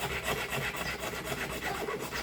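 A large file rasps across a plastic waterproof amulet case in quick, repeated scraping strokes, close up and fairly loud, with no voices.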